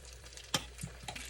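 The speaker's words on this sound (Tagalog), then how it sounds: "So, panahon na para prito na natin tong tortang talong." Tortang talong, a Filipino eggplant omelette, frying in hot oil, a faint soft sizzle with a few sharper spatters and handling knocks, close by and without talk.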